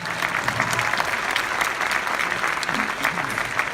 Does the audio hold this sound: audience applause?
yes